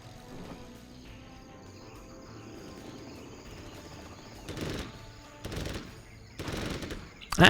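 RPG and gunfire exchange in a combat video game targeting a Chinook helicopter, with bursts of rapid automatic shots rising over a quiet ambient bed with insects and birds, growing louder toward a sharp final blast.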